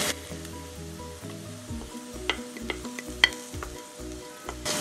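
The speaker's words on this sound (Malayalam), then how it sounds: "കുറച്ച് കറിവേപ്പില ഇട്ട് കൊടുത്തിട്ട് നമുക്ക് നന്നായിട്ട് ഇളക്കാം" Curry leaves sizzle hard in hot oil in a pan for a Kerala sadhya fish curry while being stirred, a steady frying crackle broken by repeated scraping strokes and a few sharp pops, with no talking.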